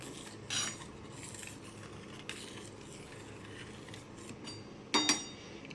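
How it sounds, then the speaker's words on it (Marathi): A spoon stirs a mixture in a kitchen bowl, giving a few sharp, separate metallic clinks over a quiet, faintly noisy background, with no talking. "आता हे मिश्रण आपण हलवून घेऊयात"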